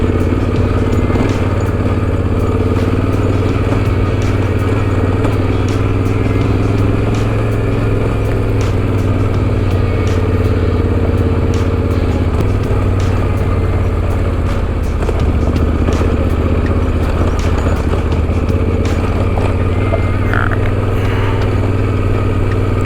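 A motorcycle climbs a trail in first gear on the Trans-America Trail, its engine holding a steady, loud low drone for the whole stretch, with clatter from the ride laid over the top.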